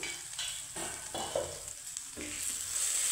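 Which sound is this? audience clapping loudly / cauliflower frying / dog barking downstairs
cauliflower frying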